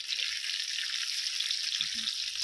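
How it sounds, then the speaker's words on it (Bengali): Salted potato pieces fry in hot oil in a pan, making a steady, even hiss that stays constant for a couple of seconds, with a faint low knock near the end and no voices. "আলুটাকে কিন্তু আমি খুব ভালো করে ভেজে নেব"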